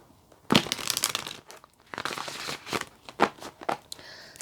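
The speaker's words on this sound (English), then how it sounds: "Let's just give this another shuffle. Cards another shuffle first of all." A deck of tarot cards is shuffled close by, giving soft, crinkly riffling bursts that come in several uneven rounds with short pauses, fairly quiet and with no voice over them.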